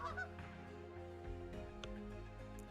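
Repeated honking like a flock of geese, a faint cluster of overlapping nasal calls holding steady over a short stretch, with no talk over it.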